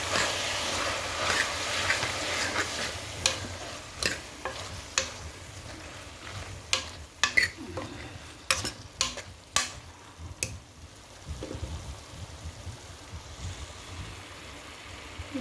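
Ingredients for masala rice fry quietly in a pan, with a low sizzle under repeated sharp clicks and scrapes from stirring, fading toward the end.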